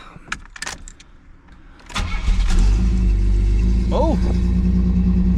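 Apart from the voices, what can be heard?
car engine starting and running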